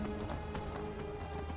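Horse hooves clip-clopping in Skyrim Anniversary Edition, a steady run of hoof beats over a droning game soundtrack, moderately faint with no talk.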